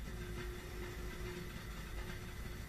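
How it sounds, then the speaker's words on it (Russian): A kettle comes to the boil, a continuous low rumbling hiss that stays fairly quiet and even throughout, with no voices. "у меня чайник закипел"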